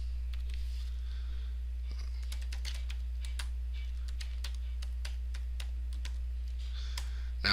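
Keys clatter on a Commodore 64 keyboard as a program is typed, with close, irregular clicks in quick runs over a steady low electrical hum.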